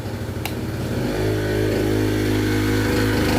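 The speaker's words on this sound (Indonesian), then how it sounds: "Dengan adanya beban, genset akan otomatis lebih kencang suaranya" A backup generator engine, a genset, takes on load after the mains power is cut, its steady running drone shifting into a deeper, louder, constant hum after about a second, close and without talk.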